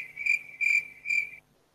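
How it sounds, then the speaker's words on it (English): Three evenly spaced, shrill cricket chirps, each a short buzzing trill, sound close and clear against near silence before stopping. "Don't you love the sound of crickets?"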